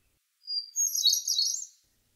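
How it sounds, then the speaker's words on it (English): A hermit thrush sings one brief, high, clear phrase of bright chirping notes lasting about a second, alone against silence. "That's a little about the incredible singing ability of the hermit thrush."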